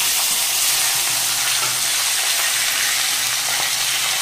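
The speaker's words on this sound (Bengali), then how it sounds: "তেলের মধ্যে সজনে আলুগুলো একটু ভেজে নেব।" Drumsticks (moringa) and potatoes frying in hot oil make a steady, loud, close sizzle with a bright crackling hiss throughout and occasional stirring clatter, no voices.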